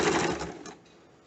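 A sewing machine stitches elastic along a waistline in one brief close whirring burst that stops abruptly, leaving quiet room tone.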